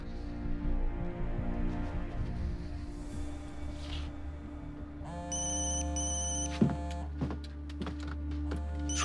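A mobile phone left behind rings with a repeating electronic ringtone, a melodic tone pattern that starts partway through and keeps cycling, heard fairly close over low background hum, with no one speaking.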